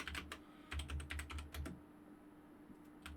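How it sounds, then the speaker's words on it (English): Fast key clicks from a new computer keyboard, a quick burst of closely spaced strokes followed by a few scattered taps, close and fairly quiet. "I don't like my new keyboard. I can't get used to it."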